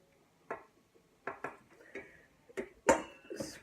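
Eggs cracked into a mixing bowl for a chocolate pecan sour cream pie, heard as several sharp separate knocks and clinks of shell on the bowl rim, close and dry, with a wetter plop near the end.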